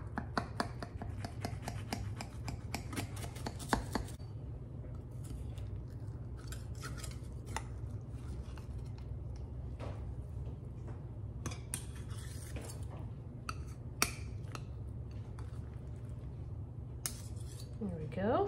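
A knife cuts into a freshly baked cinnamon swirl apple pie and a slice is served, soft clinks and scrapes of metal on a dish, intermittent and faint in a quiet kitchen.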